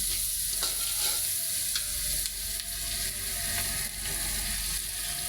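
Green chillies frying in oil in a pan, a steady, fairly soft sizzle with faint stirring scrapes running throughout, and no talking.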